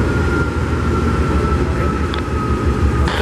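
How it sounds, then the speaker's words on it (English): Three Norfolk Southern 118 diesel locomotive engines idle near Worley in Greenville, SC, giving a loud, continuous low rumble with a faint steady whine above it and no break in the drone. "Sounds like all three of these engines are running."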